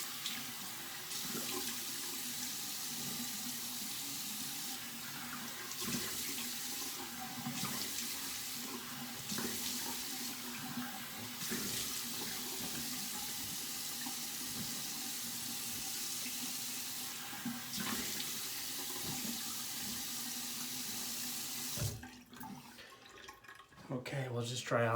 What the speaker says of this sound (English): just gonna rinse off real quick.